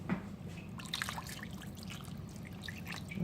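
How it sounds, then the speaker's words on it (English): Water being poured into homemade spaghetti sauce in a pot, a steady close trickle and splash running throughout. "I'm going to put some water in here."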